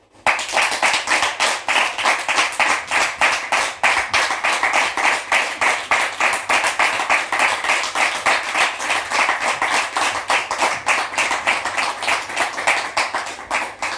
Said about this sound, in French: Public, merci de la recevoir sous vos applaudissements